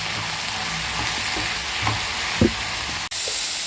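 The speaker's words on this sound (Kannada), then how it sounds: "ಈಗ ತೆಂಗಿನಕಾಯಿ ತುರಿನ ಸೇರಿಸ್ಕೊತಾ ಇದ್ದೀನಿ. ಇದೆಲ್ಲ ಚೆನ್ನಾಗಿ ಬಾಡ್ಕೊಬೇಕು." Grated coconut sautéing in a pan for a vegetable kurma masala, a steady close sizzle and hiss with a few soft scrapes of stirring, with no talk.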